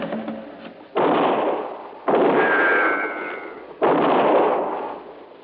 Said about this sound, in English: your last shot, wasn't it, Frankie?